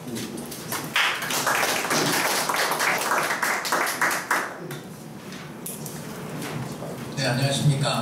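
Audience at a Korean 50-plus community forum applauding as a company CEO is introduced, a steady burst of many hands clapping at moderate distance, fading toward the end.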